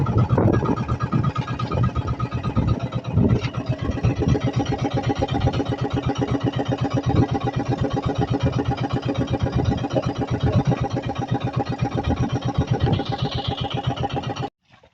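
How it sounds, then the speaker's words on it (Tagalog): A boat engine runs steadily at close range with a continuous mid-pitched drone and chug for about fourteen seconds, then cuts out abruptly into near silence. "Namatay pa yung makina."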